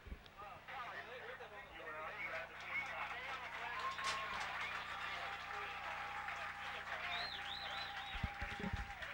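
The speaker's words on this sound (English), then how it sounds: "He gets the applause from the Braves fans as he's coming off the field." Braves fans at a high school boys football game applauding an injured player as he leaves the field, with distant outdoor clapping and crowd noise under steady talk.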